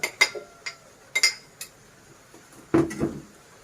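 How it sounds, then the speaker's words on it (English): Avocados, cucumber and ginger tumbled into a blender jar, giving a handful of sharp clinks and knocks spread unevenly, ending in a louder thudding clatter near the end, with no talking. "So we put them into the blender."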